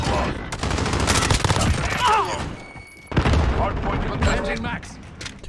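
Dense automatic gunfire and bursts from a Modern Warfare multiplayer hardpoint match, loud and near, with thumps and a brief pause before firing resumes, under a player's voice talking.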